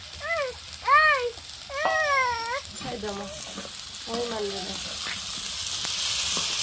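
Bitter gourd and small potatoes fry with onion and garlic in a village kitchen. A hiss rises and thickens into a steady close sizzle, with high warbling chirps early on and no clear speech.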